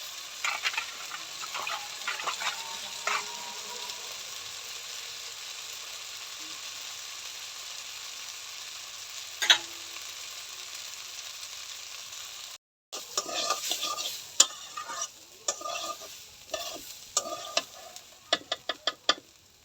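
Chicken curry with ginger garlic paste sizzles softly in a pan under a steady frying hiss, then a spoon stirs it in a run of clicking, scraping strokes toward the end, close by with no voices.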